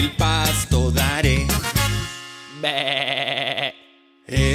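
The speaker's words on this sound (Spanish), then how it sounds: "Esa es la oveja" Sheep bleats in a children's Spanish-language farm song, several loud, wavering cries with musical backing, close and prominent, with a brief pause before a final bleat.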